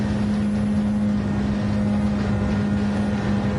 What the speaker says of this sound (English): We hear Gordon feathering the throttle just a wee little bit